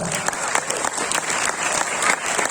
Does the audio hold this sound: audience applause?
yes